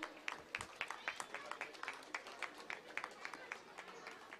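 Audience clapping for Zia of the sound crew after a Bengali stage comedy drama, a steady patter of many hands sustained throughout, lively and fairly close.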